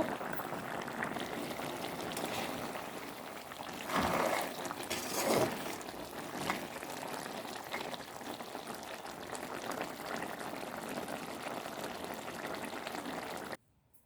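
A pot of vaddukkai curry bubbles and simmers steadily, with a couple of louder surges partway through before the sound cuts off at the end.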